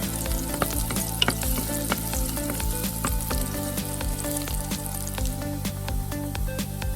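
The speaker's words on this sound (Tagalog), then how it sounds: "we add the garlic and stir fry until the garlic is lightly brown" Garlic stir-fries in two tablespoons of hot oil for a pork dish, a loud, dense, continuous sizzle crackling with frequent sharp pops and spatters throughout.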